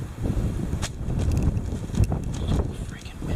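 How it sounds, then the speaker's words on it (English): Strong gusty wind buffets a winter hammock camp, a steady roaring rush with flapping gusts and bumps close to the microphone throughout. "So freaking windy, man."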